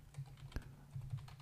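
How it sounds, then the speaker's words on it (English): Python code being typed on a computer keyboard, with quick, close, quiet key clicks in an uneven rhythm over a low background hum. "Now I'm gonna type this code."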